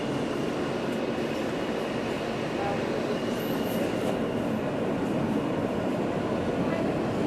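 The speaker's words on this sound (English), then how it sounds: "I'm sitting on the train." Inside a moving New York City subway F train, a steady loud rumble of wheels and car noise fills the whole stretch without a break, with faint higher squeals now and then.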